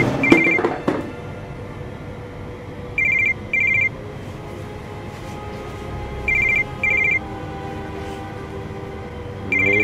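A telephone rings in short repeating electronic bursts, two quick rings at a time, loud and clear over a steady low rumble, after a brief clatter at the start.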